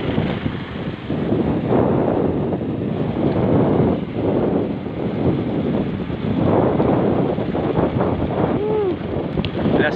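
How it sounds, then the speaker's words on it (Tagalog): Strong wind roars and buffets steadily across the whole stretch, loud and close, with no one speaking, while riding downhill near Tagaytay. "Hangin."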